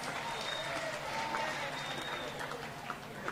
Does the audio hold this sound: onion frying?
no